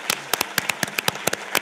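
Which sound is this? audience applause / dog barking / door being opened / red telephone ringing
audience applause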